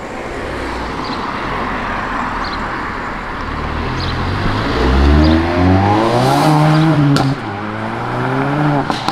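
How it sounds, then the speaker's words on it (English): A blue Honda S2000's combustion engine revs at an outdoor supercar show, rising in pitch through a couple of strong throttle blips over steady crowd and road noise. "Now, that's what we like to hear. A combustion engine."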